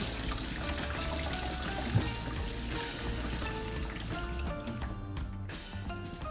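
Cold tap water runs steadily over radishes and their leaves being washed, a continuous close trickling and splashing with no talk.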